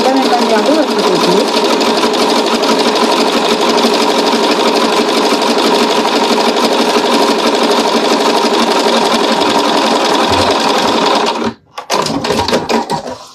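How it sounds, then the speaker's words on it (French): A sewing machine stitches a handle seam on a fabric pouch, its loud rapid mechanical whir running continuously up close before cutting off near the end, then restarting briefly. "Donc là, je fais la couture exactement de la même manière de l'autre côté."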